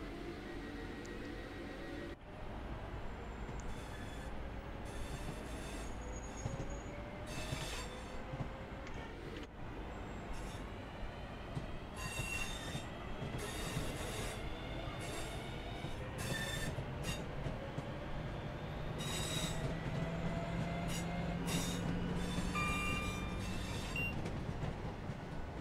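Simulated train on the Birmingham Cross City line in Train Sim World 3 rolls steadily, with rumbling wheels, rhythmic clickety-clack and recurring bursts of wheel squeal, heard alone without talk.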